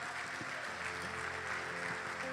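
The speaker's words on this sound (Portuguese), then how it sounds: "aplauda ao Senhor, amado" A church congregation applauding during a worship service, a dense continuous wash of clapping from many hands, steady and moderately loud.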